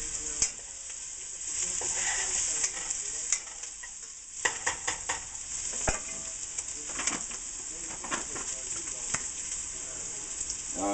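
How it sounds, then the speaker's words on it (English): Onions sauteing in a pot give a steady sizzle and crackle, moderately close, with occasional utensil clinks and stirring knocks throughout. "the onions just started sauteing."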